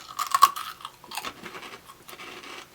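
Close, crisp crunching of someone biting and chewing giant freeze-dried gummy worm candy, several sharp crackly bites followed by softer chews, quiet and alone.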